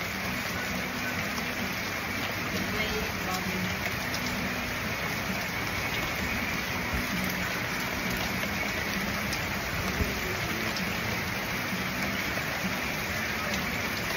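Heavy rain pouring during a typhoon storm, a dense continuous hiss of drops drumming on surfaces, loud and steady throughout with no voices.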